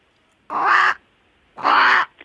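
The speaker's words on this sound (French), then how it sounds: "Ça, c'est la voix d'un corbeau." A recorded crow caws twice, played from a tape recorder and heard over a phone line, two loud, harsh, separate calls with a short pause between them.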